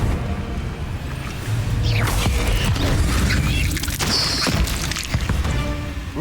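Spell combat in Hogwarts Legacy inside a cave, with a Confringo blast among several sharp whooshing casts and thudding impacts over a steady low rumble, loud and busy throughout.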